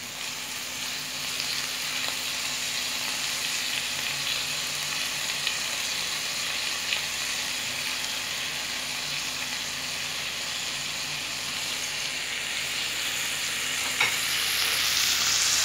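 A spoonful of ghee sizzling in a hot pan for shawarma fatteh, a steady even frying hiss held close for the whole stretch with faint stirring, no speech.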